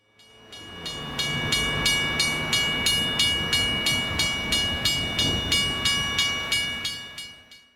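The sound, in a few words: train passing a railroad crossing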